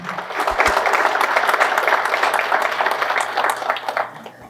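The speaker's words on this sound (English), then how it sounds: "let's give them another round of applause" Crowd at a SECO Energy district member meeting gives a round of applause, steady dense clapping lasting about four seconds before tapering off.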